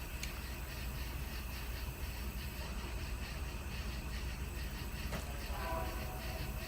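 A train passes nearby outdoors as a steady low rumble and rolling rail noise that fills the whole clip at moderate, even loudness, with a brief sharper squeal or clank near the end.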